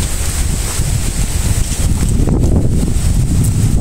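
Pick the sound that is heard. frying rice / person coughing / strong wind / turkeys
strong wind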